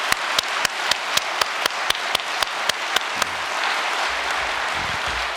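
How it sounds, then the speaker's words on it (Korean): At a New Year's Day prayer gathering, a crowd claps in slow, regular unison beats about every quarter second, then breaks into continuous, loud, scattered applause. "감사의 박수 한번 올려주시면 고맙겠습니다."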